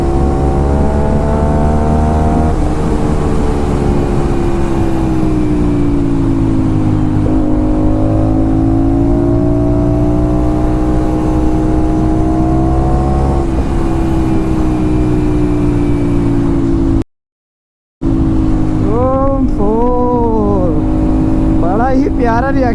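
An Aprilia RS 457 Sc Pro motorcycle with a loud aftermarket exhaust revs and drones close by, pitch rising and falling, then cuts briefly before sharp blips return.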